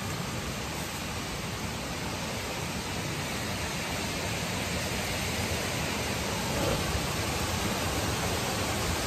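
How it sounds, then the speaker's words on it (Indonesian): Steady, dense roar of rushing water at the Fiane waterfall, a tourist spot, heard close and loud as an unbroken wash of noise with no voices. "Sini bagus sekali air terjunnya."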